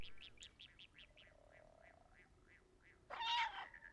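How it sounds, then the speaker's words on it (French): A small cat meows in the video game Stray, giving a rapid run of faint, high chirping mews, then one louder, brighter cry near the end, with no talking. "Oh, le petit chat."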